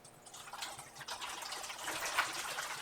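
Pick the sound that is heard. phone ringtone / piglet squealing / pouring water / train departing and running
pouring water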